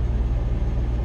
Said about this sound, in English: Can't even hear with the gen and the AC going.